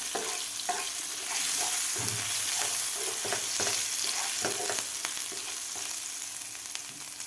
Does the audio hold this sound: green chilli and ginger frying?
yes